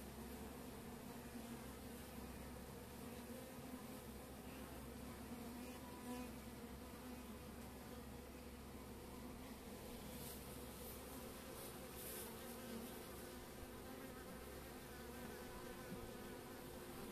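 Honey bees buzz around a supersedure queen bee in a hive, forming a dense, steady, close hum throughout with no speech.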